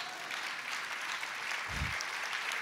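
Sparse, quiet applause from a church congregation at a wedding-themed sermon, a few scattered claps forming a faint, steady patter with no talking over it.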